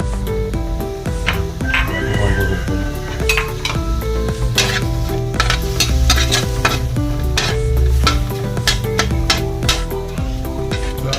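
Shrimp for seafood pancit canton fry and are stirred in a pan, with a steady loud sizzle and repeated clanks of a utensil scraping the pan throughout.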